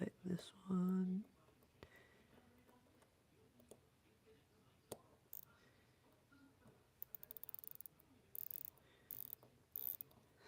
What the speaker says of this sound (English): So I just put a little bit of wind in there manually